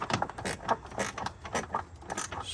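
A ratchet wrench tightens the battery terminal on a 2015 Subaru Forester, making rapid, close, quiet clicking in short bursts with no talk.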